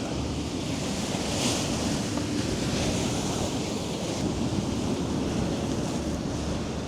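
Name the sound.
ocean waves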